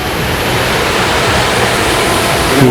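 Chingjok waterfall in the Hala-Bala forest of Yala, a loud, close, unbroken roar of falling water filling the whole space.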